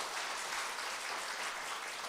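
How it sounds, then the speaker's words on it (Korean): Applause from a church congregation at an evangelistic revival meeting, a steady dense wash of many hands clapping throughout, fairly quiet and distant with no voices heard. "정말 그런 마음 가지고 한번 더 크게 한번 박수 쳐보시겠습니까?"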